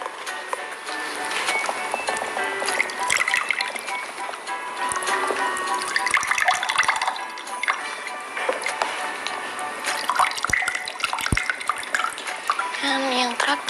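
Coconut water poured from a whole coconut into four equal glasses, a steady splashing trickle running throughout with brief pauses between glasses, while people talk over it.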